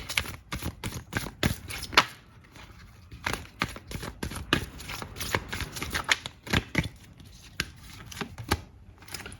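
Tarot cards being shuffled and drawn close up, a run of quick papery flicks and taps in irregular bursts, with no talking.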